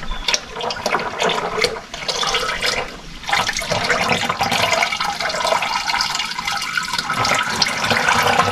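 Used oil drains from a John Deere 6210R tractor in a steady, loud, gushing pour that runs without a break from start to finish.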